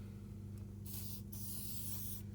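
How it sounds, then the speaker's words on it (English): GT85 or WD-40 lubricant sprayed around the rim of a Ninebot Mini Pro scooter tyre, giving a couple of close, steady aerosol hisses over a low constant hum. "What I tend to do is I spray GT85 or W40 around the rim in here, let it all seep in"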